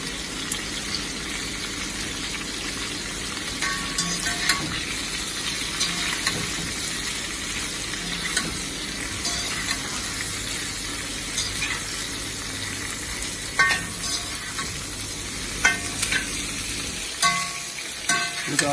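Whole dry spices (aniseed, cinnamon, clove, peppercorn and broken dried chili) fried in a pan for Chinese braised pork belly: a continuous loud sizzle with intermittent scraping and clattering from stirring, no speech.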